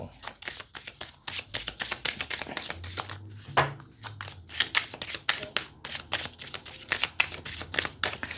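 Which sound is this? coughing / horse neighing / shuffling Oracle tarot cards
shuffling Oracle tarot cards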